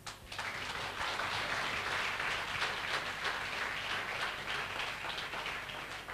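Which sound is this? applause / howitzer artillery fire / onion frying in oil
applause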